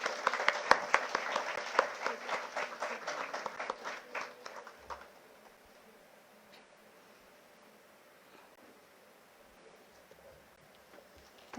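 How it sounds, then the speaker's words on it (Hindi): Audience applause welcoming a speaker at a UPSC civil services workshop in Nagpur, a dense burst of clapping that fades out after about five seconds, leaving quiet room tone. "तालियों की गड़गड़ाहट कम नहीं होनी चाहिए."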